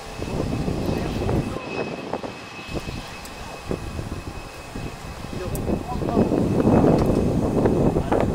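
An Airbus A321neo of La Compagnie lands on runway 10 at Rennes airport, a broad, loud jet roar heard from a distance that swells toward the end, with people's voices mixed in underneath.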